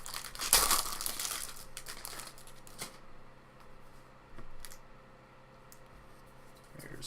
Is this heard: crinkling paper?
yes